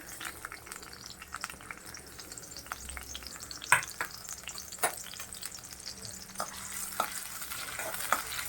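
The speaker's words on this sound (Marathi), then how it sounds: "चांगलं फ्राय करायचं आपण कांदा कढीपत्ता आणि कांदा चांगला फ्राय करून घ्यायचा" Onion and curry leaves frying in a few spoons of oil for a shark fish curry masala, a low steady sizzle under scattered spatula clinks and stirring scrapes, close and quiet, no talk.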